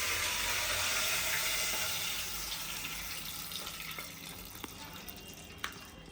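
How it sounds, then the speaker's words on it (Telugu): About a litre of buffalo milk pours into a pan of ghee for sheer khurma, a steady close splashing stream that gradually softens and thins out, with faint background noise. "సేమియా తీసేసినాక ఇదే బాండీలో 1 లీటర్ వరకు పాలు పోసుకోవాలి"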